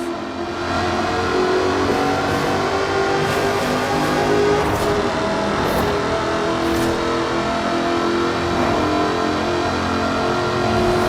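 Supercharged 5-litre V8 in an aluminium-bodied car from Forza Horizon 4, revving hard and sustained at a loud, steady level for the whole stretch, with no talk.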